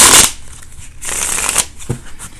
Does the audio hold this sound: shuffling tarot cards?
yes